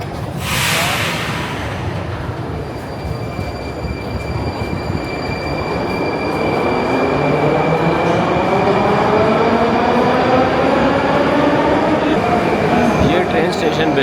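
Metro trains at Revolution Square station in Moscow, a loud rumbling roar of railcars with rising whine and wheel squeal, a brief hiss at the start, close and sustained.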